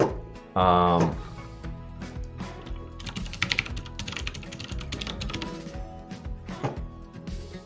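Someone types a password on a computer keyboard, with bursts of close, rapid plastic key clicks. A brief tonal sound comes at the start, and the keystrokes are uneven and trail off into scattered taps.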